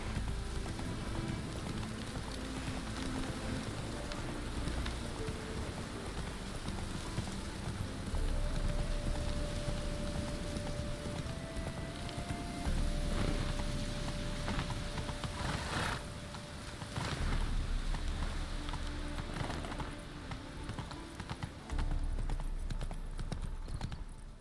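Roach, the horse in Witcher 3, gallops in the rain with steady rapid hoofbeats throughout and rainfall hissing behind. There is a brief tone in the middle, and a voice speaks faintly at times.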